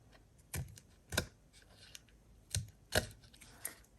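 Scissors cut around a taped index card in a few close, crisp snips spaced about a second apart, faint against quiet room noise.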